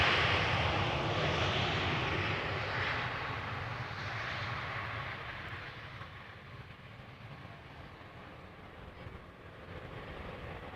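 A KLM Cityhopper airliner at Amsterdam Schiphol airport roars with a broad, distant jet rush that slowly fades and then swells slightly again, heard alone without talk.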